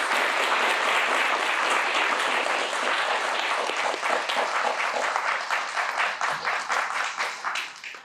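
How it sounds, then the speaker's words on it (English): Audience applause for young speakers at the close of a 13 to 16 age category speech competition, a dense, sustained round of clapping from a large crowd that thins and fades toward the end. "let's give one more massive round of applause to all of our young speakers"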